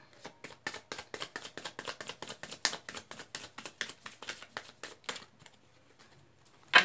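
Tarot cards shuffled by hand during a love reading: a steady run of quick, close papery slaps and riffles for about five seconds, then near silence with one last soft tap.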